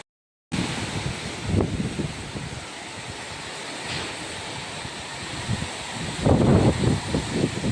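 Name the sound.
strong wind with rain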